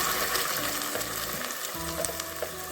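Onion and ground tomato-onion paste fry in a pan for restaurant-style chana masala, with a continuous loud sizzle and occasional stirring scrapes close by.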